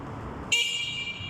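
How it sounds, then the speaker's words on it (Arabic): A Toki Cycle vehicle horn, from an Egyptian-made seven-passenger people carrier, blares in a single sustained honk that starts abruptly and holds steady to the end over a low idling rumble. "كلاكس،"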